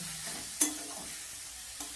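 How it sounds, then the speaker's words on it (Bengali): Vegetables for a stuffed chop filling are stirred and fried in a pan, giving a steady near sizzle with a sharp utensil scrape near the start and a softer one near the end. "এইভাবে আমি সব কিছু নেড়ে চেড়ে একটু ভাজা ভাজা করে নেব"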